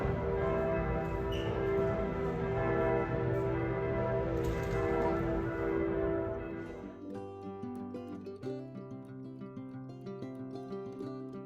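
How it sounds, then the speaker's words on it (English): Church bells ring out from Giotto's bell tower in Florence, Italy, heard from a hotel window, in a dense, overlapping peal, then fade to sparser, lingering tolls. "we hear the bells ringing in Giotto's bell tower from our hotel window"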